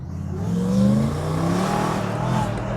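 A 1000 hp BMW M3 G80 drives along, its engine note rising and falling in a steady close drone from inside the cabin, with a voice speaking briefly over it.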